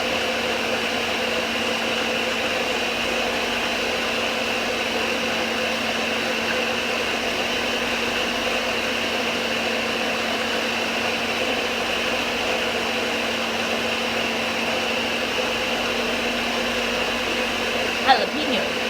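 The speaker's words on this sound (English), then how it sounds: "I'm going to let it run for a few minutes to really make those garbanzo beans smooth" A steady, continuous motor whir of a food processor blending chickpeas into hummus, running nonstop, loud and close with a constant hum throughout.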